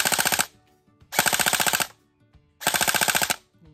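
An MK18 MOD1 blowback airsoft electric gun fires three loud full-auto bursts, each about three quarters of a second of rapid mechanical rattling clacks with short quiet gaps between, close and without talk.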